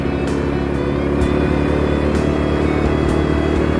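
An old Honda Supra motorcycle pulls uphill in third gear, its engine droning steadily and loud up close with a continuous gritty rumble and no break in the power.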